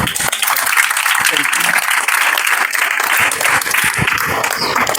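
Loud, dense applause from an audience clapping for a young woman's parents at a motivational event, steady and sustained throughout with no pauses.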